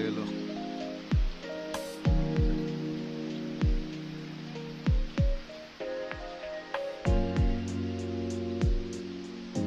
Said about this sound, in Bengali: আবার বৃষ্টি চলে এলো।